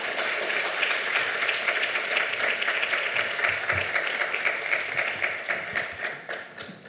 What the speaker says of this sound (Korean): 우리 감사의 마음으로 우리 큰 박수로 목사님 모시도록 하겠습니다.